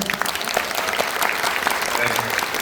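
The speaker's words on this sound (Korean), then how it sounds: "박수 한번 주시죠." Audience applause at a film talk event in a COEX Megabox cinema hall, dense steady clapping from a seated crowd, full and even for the whole stretch.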